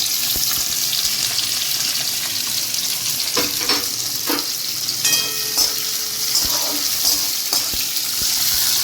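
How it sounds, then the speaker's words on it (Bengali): Capsicum fries lightly in oil in a pan, a steady loud sizzle broken by bursts of stirring clatter and a brief metallic ring. "আমি আগে এই ক্যাপসিকামগুলো বন্ধুরা আমি একটু হালকা করে ভেজে রাখবো।"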